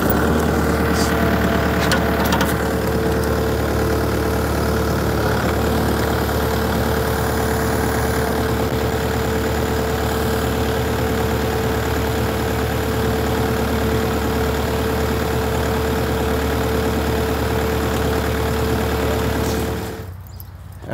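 A tractor engine runs steadily during a two-wheel drive tire traction test, a loud continuous mechanical drone with a tonal hum that holds for about twenty seconds before dropping off abruptly.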